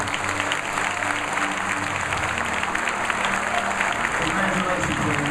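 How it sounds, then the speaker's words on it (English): A large audience at a university scholar-athlete honors event claps steadily and densely, a continuous wash of applause with a murmur of voices underneath. "Please give a nice round of applause for Ms. Taylor Tolfree."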